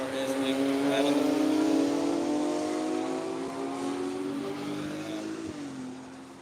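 A Ferrari 430 engine drones past with a loud, sustained tone that slowly falls in pitch as the car recedes, ending with a brief shift.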